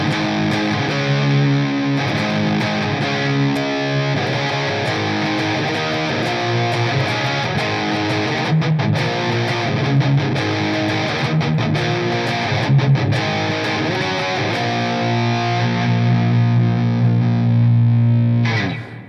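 Electric guitar played through a NUX Trident with a Tube Screamer-style drive, light reverb and EQ into a Marshall-type amp and 4x12 Vintage 30 cabinet, giving thick, sustained distorted chords that ring loud and continuous throughout.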